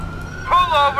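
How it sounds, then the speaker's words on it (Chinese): A police siren in GTA IV with the LCPDFR police mod, its rising, wailing tones swelling in partway through over steady game background noise and traffic. "我听到那个警笛"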